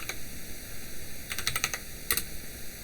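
Bursts of typing on a computer keyboard while writing code in a text editor. The clacks come close and crisp in two clusters, with a steady electronic hum underneath and no talk.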